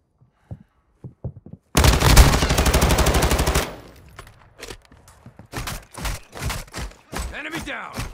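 Automatic gunfire from Call of Duty: Modern Warfare II rips out in one loud, dense burst lasting about two seconds, after a few isolated shots and before a run of single thuds and shouted voices.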